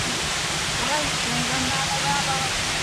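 Steady broadband rush of the Villa Berong Falls waterfall in Barangay Pisa, General Nakar, Quezon, flowing on a rainy day, continuous and fairly loud, with faint voices in the background.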